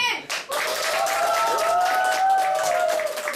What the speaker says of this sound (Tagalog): mga gustong pumalakpak naman po para kay Nadine